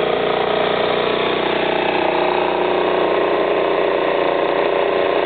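A 1996 Baotian moped engine idles nearby, a steady, even mechanical drone that stays constant throughout.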